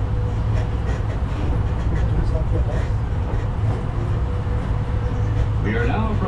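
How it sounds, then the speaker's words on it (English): Disneyland parking tram riding toward the Mickey and Friends and Pixar Pals stop, a continuous low rumble of wheels and motor throughout with a voice announcing over it. "We are now approaching the Mickey and Friends and Pixar Pals Tram stop"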